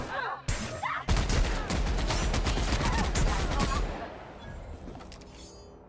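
Rapid bursts of gunfire from the shooter video game The Outer Worlds, loud and sustained for several seconds with dense overlapping shots, then tapering into quieter game ambience.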